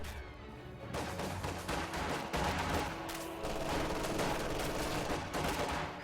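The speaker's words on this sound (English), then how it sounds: "MG42 will fire on those conscripts and force them to retreat." Dense, continuous machine-gun fire, MG42 bursts in a World War II strategy video game battle, with overlapping rapid shots and crashing impacts filling the mix loudly throughout, with no speech.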